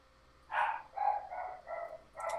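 Dogs barking indoors in several short bursts, about five barks at moderate loudness, with no talk over them.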